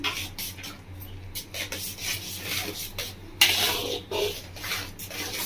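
Mango kheer with cashews being stirred in a pot, a steady scraping and rubbing of a spoon against the pot in uneven strokes, close and fairly quiet, with no talking.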